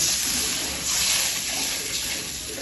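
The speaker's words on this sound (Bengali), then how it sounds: "পানি দিলাম।" Water is poured into a hot pan of frying spices, and a brief rushing, hissing gush rises and settles into a steady bubbling sizzle, close and fairly loud.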